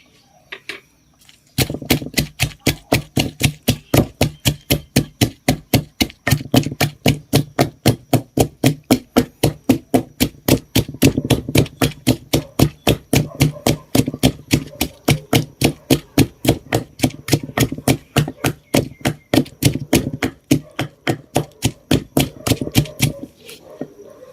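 Steady, rapid rhythmic pounding with dozens of sharp, evenly spaced thuds from a pestle striking a mortar, crushing dried chilies, close and loud.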